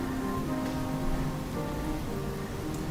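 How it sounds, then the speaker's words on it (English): Steady rain pours in the video game Ender Lilies, a dense continuous hiss with faint low rumbling, alone and without talk throughout. "You think me the sort of wretch to leave a child out in this horrid rain?"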